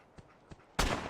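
Varmint rifle shot in Fallout 4, two faint clicks followed by a single loud, close gunshot with a short decaying tail.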